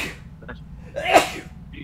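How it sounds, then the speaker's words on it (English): A single sharp human sneeze bursts out near the middle after a brief inhale, loud and close over a low background hum. "I gotta sneeze."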